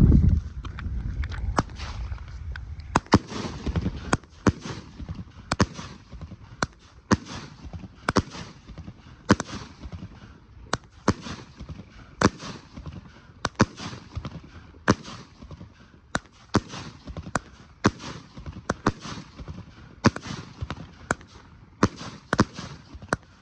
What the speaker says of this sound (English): 25 shot color strike by Nunya.